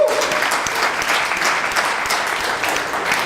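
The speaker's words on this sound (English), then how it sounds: "Let's give the Bitcoin Center a round of applause." Applause from a conference audience at the WBF event in New York, a dense, steady wash of many hands clapping, fairly loud and sustained throughout.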